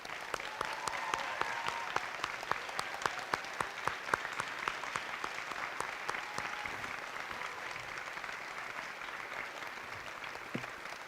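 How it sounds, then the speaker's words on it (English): A school awards assembly audience applauds students standing up, steady sustained clapping from a large crowd heard at a moderate distance, with no talking over it. "give them a round of applause and make it loud so those classrooms can hear you"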